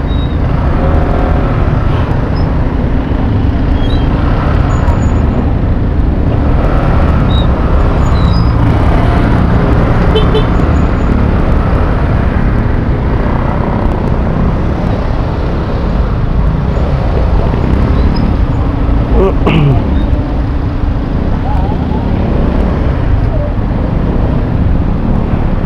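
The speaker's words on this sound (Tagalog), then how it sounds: "Madalas pa traffic dito mga idol sa lugar na to." Steady, loud street traffic near a checkpoint in Molino, Bacoor, Cavite, with continuous engine rumble and road noise throughout and a faint sharp knock partway through.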